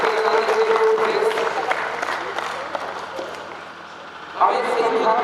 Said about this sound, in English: Everybody give a big clap for our students.